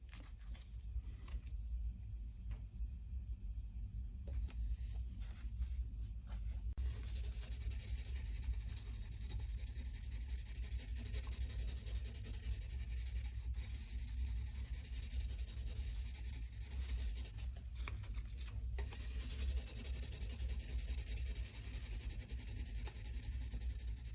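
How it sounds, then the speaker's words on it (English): Steady, continuous hand sanding of a part on a 1:1000 scale Enterprise model, a dry rasping rub that carries on evenly for a long stretch with no talking. "now that I'm done with the first round of sanding"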